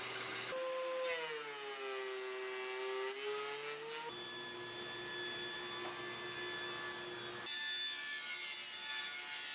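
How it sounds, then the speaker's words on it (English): Oak boards run through woodworking machines to final thickness, a loud steady machine drone with shifting whining tones that holds throughout, changing pitch near the start and again partway through, with no voices. "I found some oak, so I went ahead and milled that all up to its final thickness"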